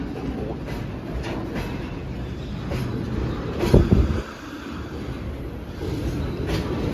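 A passenger train passing at a station on a rail trip from Astana to Almaty, a steady low rumble with a brief louder clunk midway, heard at moderate distance without speech.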